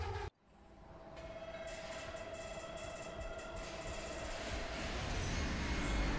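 A train in the video game Fallout London rolls along the track with a steady, loud rumble and faint rhythmic clacking that grows slightly louder toward the end.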